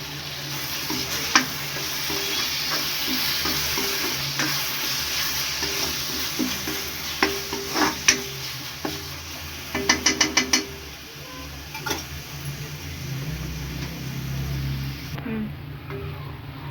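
Tomatoes sizzle steadily in a hot pan for paneer gravy while a spatula stirs and scrapes, with a quick run of clicking taps partway through.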